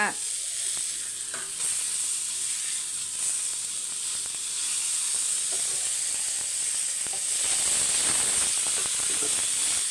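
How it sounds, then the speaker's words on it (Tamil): Fish sizzles steadily in a pan over low heat for a village-style fish fry, a dense continuous hiss with faint stirring clicks, fairly close and even throughout. "மீன் வறுவல் பார்த்தீங்கன்னா எல்லாத்தையும் வறுத்துடலாம்"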